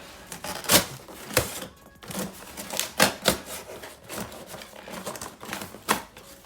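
A knife scores and cuts through bed fabric while cardboard is pulled out beneath a squeaky bed, a close series of irregular sharp scratching and tearing snaps, loud and uneven.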